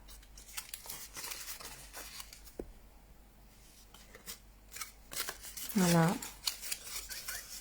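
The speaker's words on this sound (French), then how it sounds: "il nous suffit juste de marquer tous les plis comme ça" Pre-folded cardboard treat box being creased along its folds by hand, giving soft scraping and crinkling sounds close up, with a brief sharp rasp near the end and a short spoken word.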